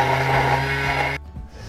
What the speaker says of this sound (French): Je vais venir le réduire comme du sucre à glacer. On sait très bien qu'avec notre Thermomix, on peut le faire sans problème.